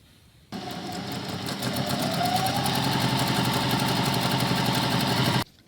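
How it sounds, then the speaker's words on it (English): A sewing machine sews a quarter-inch seam along jelly roll strips for a baby quilt top, running in one continuous close, steady hum for about five seconds before stopping, with no speech. "And now what I'm going to do is I'm going to sew down here with a 1/4 inch seam."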